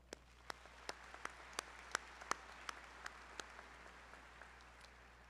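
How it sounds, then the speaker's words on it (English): At a spring business-school commencement, scattered applause for the platform party comes through as a dozen or so separate, spaced claps, faint and distant over a low steady hum, thinning out toward the end. "another round of applause for the platform party"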